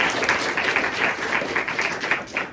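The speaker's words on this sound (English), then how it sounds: "Please give her a big round of applause just for that." Audience clapping for a singer at a Bay Area lecture-demonstration of music, a steady patter of many hands that continues throughout at moderate volume.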